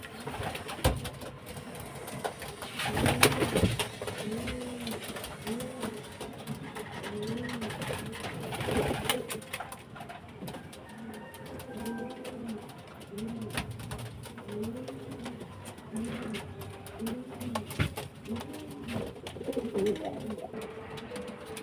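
Pigeons recovering from illness coo repeatedly in soft, rolling phrases, several birds overlapping close by against a steady background hum.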